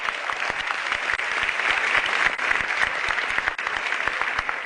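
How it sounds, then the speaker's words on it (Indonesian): A studio audience at a televised stand-up comedy show on Metro TV breaks into steady, dense applause, loud and sustained without letup for the full stretch, with no voices rising above the clapping. "Tepuk tangan dulu dong."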